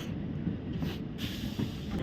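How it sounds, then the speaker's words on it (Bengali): A train pulls out of Srinagar station bound for Banihal, a steady low rumble of rolling wagons heard from aboard, continuous and fairly loud with no voices. "শ্রীনগর থেকে এই ট্রেন ছেড়ে দিল আমাদের আগামী গন্তব্যের দিকে"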